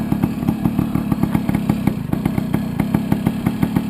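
A Tomos moped engine idles steadily up close, its quick, even putter ticking along without a break.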